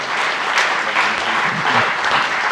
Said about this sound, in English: would you please join with me in warm welcome for Pastor Billy Crone as he comes up